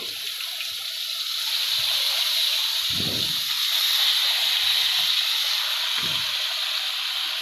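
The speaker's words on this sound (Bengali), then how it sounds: "এবার আমি মাংসগুলো দিয়ে দেবো।" Chicken pieces for biryani sizzling in hot oil in a pan, a steady bright hiss throughout with a few soft low thumps and clatters of handling in between.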